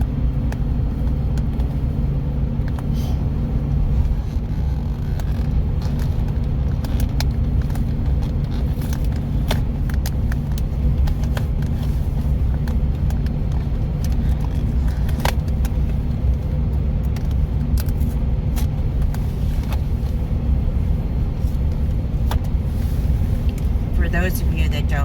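Car driving along a road in south central Oregon near Lakeview, heard from inside: a steady, loud engine and road rumble that holds evenly throughout, with faint ticks and clicks scattered over the drone.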